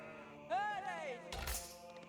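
A sheep bleats in the video game Age of Empires IV, a single wavering bleat followed by a short burst of game sound, close and clear.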